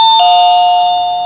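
A loud electronic door visitor alert chime from a shop, one bright two-tone ding-dong that starts abruptly and rings on with a slowly fading sustain.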